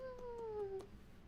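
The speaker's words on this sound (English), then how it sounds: "It's because there was a sleeping cat in the general vicinity." A pet cat named Tora gives a single drawn-out meow that slides downward in pitch, quiet and close, with faint room sound around it.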